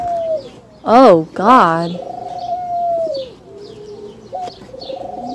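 Doves coo at a dairy farm in San Elizario, Texas, with soft, repeated calls close by and a couple of louder bursts. A person speaks over them.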